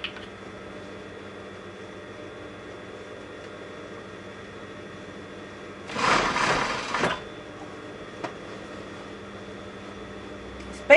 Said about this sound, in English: I folded back the seam and I'm stitching on top of it